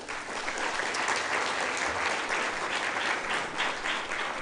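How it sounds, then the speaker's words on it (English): Guests at a gala dinner for the Old Starehian Society give sustained, full-room applause, a steady thick wash of clapping that holds evenly throughout without anyone talking. "a hand of applause to MRM"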